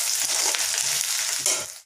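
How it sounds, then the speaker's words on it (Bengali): Grated coconut and chickpeas frying in hot oil with nigella seeds and green chilli give a loud, dense sizzle that holds steady, then fades away at the very end. "তারপরে কালো জিরা কাঁচা লঙ্কা ফোড়ন দিয়ে নারকেল এবং ছোলাটাকে ভাজতে দিলাম"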